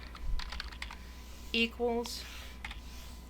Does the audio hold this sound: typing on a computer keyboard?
yes